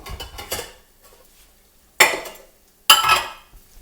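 A metal pot is handled in a home kitchen, giving a few light clinks at first and then two sharp, loud clanks a second apart, each ringing briefly before dying away.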